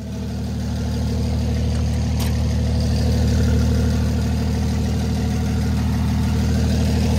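A straight-piped Oliver tractor engine runs at a steady idle, a loud, deep rumbling throb that swells slightly at the start and holds constant to the end, with no talk over it.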